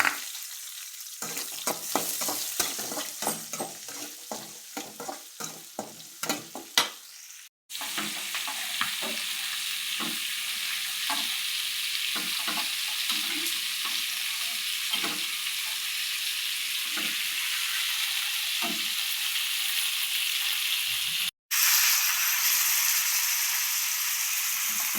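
Curry leaves and onions for a chepili fish curry: crackling stir sounds with spoon taps first, then a loud, steady sizzle of frying in a pan, close up, with occasional scraping strokes and two brief cuts.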